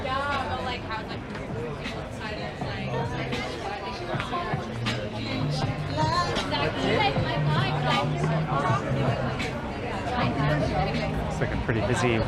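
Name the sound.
crowd chatter in front of a busy wine bar on Ossington Street, Toronto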